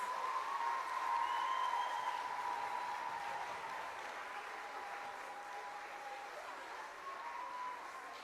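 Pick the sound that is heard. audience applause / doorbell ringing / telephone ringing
audience applause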